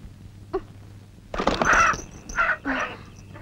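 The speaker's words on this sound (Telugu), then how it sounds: "ఏంది అర్ధరాత్రి కోడి?" A rooster crows at midnight, giving a few drawn-out, wavering calls close by after a short, quiet cluck, with stillness around them.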